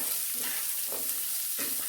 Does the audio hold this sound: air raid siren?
no